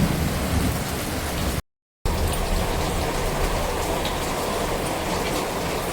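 Heavy rain pours in a loud, continuous roar during a thunderstorm, broken by a brief moment of total silence before the downpour resumes just as strongly.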